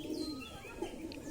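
Soft, faint cooing of an Andhra pigeon held up close, low murmuring calls with a slight rise near the middle and no voices.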